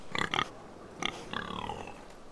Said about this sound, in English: There's a pig.